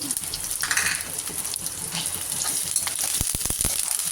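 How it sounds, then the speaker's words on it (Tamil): Sliced large onions and curry leaves sautéing in a pan for a lentil-ball curry, a dense continuous sizzle with a few sharp stirring knocks near the end. "வெங்காயம் போட்டு கருவேப்பிலையும் போட்டோம்னா வெங்காயம் நல்லா வதங்கிடுச்சு"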